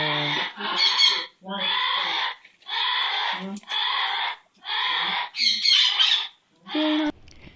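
A pet parrot gives a series of about eight loud, harsh squawks in close succession, each burst short and raspy and separated by brief gaps, close to the listener with no talking.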